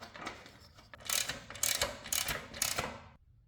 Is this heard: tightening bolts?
yes